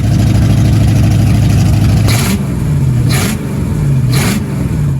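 A Mercruiser 5.7 engine on a Mariah Z241 Davanti Magnum boat, run on a flushing hose after a rebuild, idling loud and close with a steady low rumble and a few brief rises in revs.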